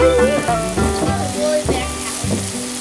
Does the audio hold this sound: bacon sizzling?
yes